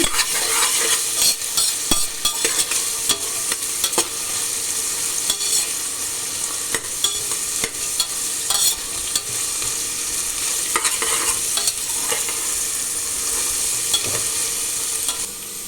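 Green beans and carrots frying in a pan for paneer biryani, a loud, steady sizzle held close throughout, broken by frequent scraping and clinking of a spoon stirring the vegetables, with no talking.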